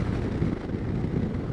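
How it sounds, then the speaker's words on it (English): Steady wind buffeting the microphone on an off-road motorcycle ride aboard a Suzuki V-Strom 650 near Soda Lake, a continuous loud low roar with no talking. "Ooh, wind out here."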